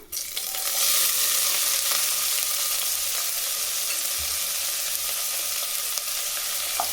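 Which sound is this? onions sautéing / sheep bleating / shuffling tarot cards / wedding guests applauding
onions sautéing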